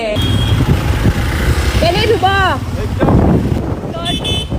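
Riding pillion on a friend's new motorbike: steady wind buffeting and engine rumble fill the clip, with people talking over the noise throughout.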